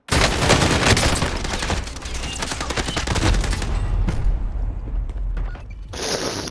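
Rapid gunfire in the video game Warzone, a dense, loud burst of repeated shots and booms that fades after a few seconds, then a short mechanical clatter near the end.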